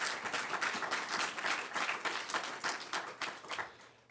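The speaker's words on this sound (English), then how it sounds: "Give yourselves a round of applause." Applause from the crowd at the 2024 GDYT launch press conference: many hands clapping in a thick, rapid patter that starts strong and gradually fades, with no talking over it.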